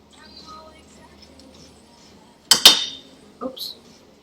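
A utensil clacks against a pan as butter is mixed into food, two sharp close metallic knocks followed by a softer scrape, with quiet talk in the background.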